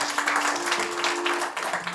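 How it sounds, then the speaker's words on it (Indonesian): A church congregation claps loudly for a couple of seconds during a sermon, with a sustained hum from instruments or a sound system running underneath the applause. "Tepuk tangan sekali lagi buat Tuhan."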